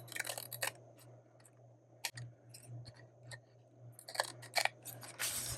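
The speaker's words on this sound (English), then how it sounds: "And then let's just trim them off." Scissors snip through book-page paper while an envelope is trimmed, giving a series of crisp, close cuts and clicks. The cuts are irregular and separated by brief quiet gaps over a faint background hum.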